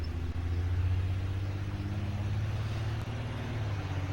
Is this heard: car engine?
yes